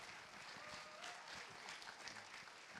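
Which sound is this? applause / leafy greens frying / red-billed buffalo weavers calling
applause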